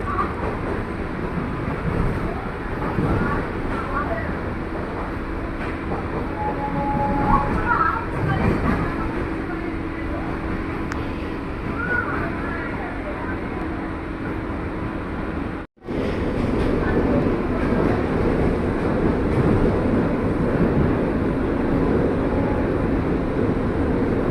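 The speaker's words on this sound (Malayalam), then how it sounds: "ചെന്നൈ ബീച്ച് റെയിൽവേ സ്റ്റേഷനിൽ നിന്നും പുറപ്പെട്ട നമ്മുടെ A C E M U train" An AC EMU suburban train runs out from Chennai Beach station, its steady interior rumble and rail rattle continuing for the whole stretch, with a brief dropout partway through before the running noise resumes, slightly louder.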